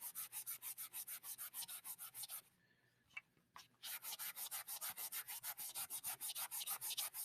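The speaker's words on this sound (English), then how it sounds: "and clean those cork handles. Look how clean that thing's coming." A magic eraser scrubs a cork fishing rod handle in fast, steady back-and-forth strokes, loud and close. It stops briefly midway with a few small knocks, then the rhythmic rubbing resumes.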